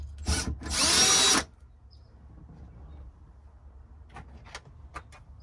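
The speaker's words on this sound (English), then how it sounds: "We're gonna drill these out to 3/8 for the rib nut to fit." A power drill bores holes out to 3/8 inch for rivet nuts on a Molle panel mount, with two loud whining bursts up close, the second longer, followed by quieter handling clicks.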